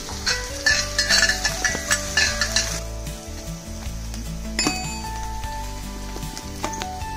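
Chillies, garlic and ginger sauté in a pan, with a spatula clinking and scraping in quick bursts over a soft sizzle and a steady tonal hum in the background.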